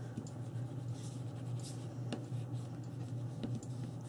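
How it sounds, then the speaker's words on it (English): Paper edges are burnished along a curve for a handmade dog house box and mini album, giving a soft, continuous close rubbing and scraping with a few faint taps under a steady low hum. "press those down onto the curve, and then burnish both sides"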